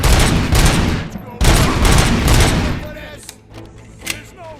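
Bursts of rapid gunfire from Robocop: Rogue City, loud and close for the first three seconds, then trailing off into quieter scattered shots and faint voices.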